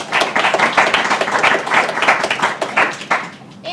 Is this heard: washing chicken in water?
no